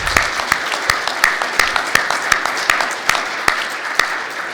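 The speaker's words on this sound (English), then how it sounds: "So please join me in a round of applause." Conference audience applauding the RIPE NCC staff at a South East Europe network operators meeting, a dense wash of clapping with a few sharper individual claps standing out, steady throughout.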